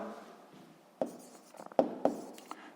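A pen scratches across paper while a sixth-grade maths answer is written out: soft strokes, then several sharper taps and scrapes in quick bursts, close and alone.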